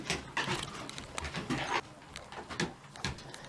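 A newly acquired dog on a homestead pants and moves around close by, with bursts of rough breathing and shuffling, scrabbling sounds in an uneven rhythm.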